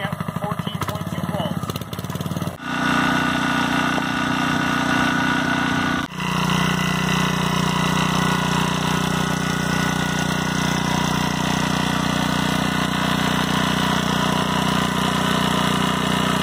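A small-engine DC generator, its choke set and idle raised, runs at a steady idle with a constant mid-pitched drone after an earlier engine burst, the hum continuing evenly and close by.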